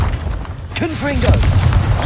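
A Confringo blasting spell detonates in the Hogwarts Legacy video game, a booming burst landing about midway amid game sound effects and a short vocal exclamation, over a steady rumbling background.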